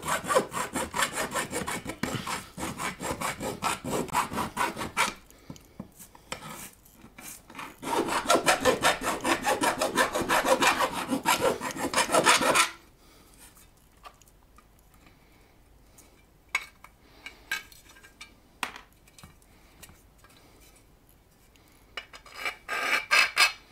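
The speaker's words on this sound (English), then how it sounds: "Just some deburring." Drilled holes in a metal amp chassis get deburred by hand, with bursts of rasping, scraping strokes, pauses of near silence between them, and a final burst of scraping.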